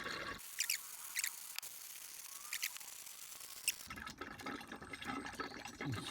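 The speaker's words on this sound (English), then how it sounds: "Hear the air coming back in? We're filling our port, filling the tank with AdBlue." AdBlue diesel exhaust fluid is poured from a bottle into the filler of a Land Rover Evoque, giving soft glugging and gurgling with air bubbling back, quiet and close.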